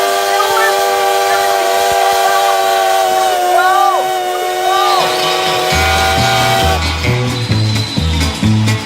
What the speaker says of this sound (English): I hear the train a-coming